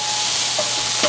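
Garlic and meat sauté in a hot pan, giving a steady close sizzle with faint stirring scrapes and no voices.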